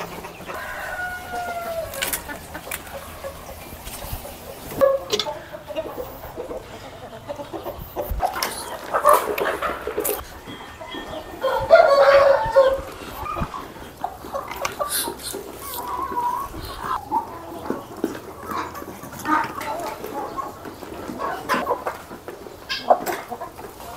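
Brahma chickens on a farm, a mix of soft clucks, scattered hen calls and a rooster crow, irregular and moderately near over a rustling outdoor background.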